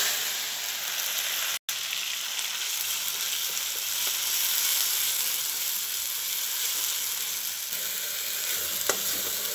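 A ground masala paste of coriander and tomato fries in hot oil in a kadhai on a gas stove, hissing in a loud, continuous sizzle close by, broken by one brief dropout and a few faint clicks.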